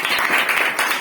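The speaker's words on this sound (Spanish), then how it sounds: "Primero un aplauso muy grande para Miguel." An audience applauds at a book presentation in a bookshop, with brisk, loud clapping that stays dense and continuous throughout the short burst.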